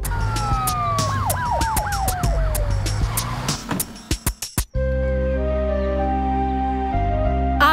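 An ambulance siren in an animated children's story wails in rising and falling sweeps, loud and close, then cuts abruptly to a steady droning tone.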